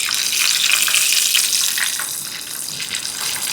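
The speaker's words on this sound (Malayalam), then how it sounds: "ഇനി ബാക്കിയിരിക്കുന്ന 2 കൂടി വറുത്തെടുക്കാം" Karimeen (pearl spot fish) frying in a pan of hot oil, a steady, loud broadband sizzle with crackling throughout, easing slightly toward the end, no voices.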